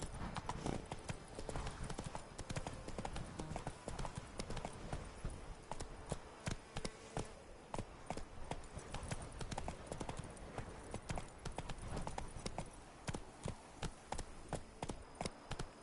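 Horse hooves gallop in The Witcher video game, a fast, loud rhythmic clip-clop that drums on steadily and close throughout with no voices.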